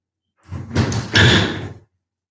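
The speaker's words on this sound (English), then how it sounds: "Close the door a little bit." A door is pulled shut in a quiet yoga room, a short scraping slide that ends in a firm, close thud, with silence before and after.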